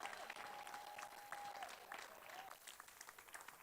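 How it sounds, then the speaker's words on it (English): Audience applause at a community event on democracy and social justice, a steady patter of many hands that sounds faint and distant, with a thin sustained tone running through the first half. "Give him a round of applause."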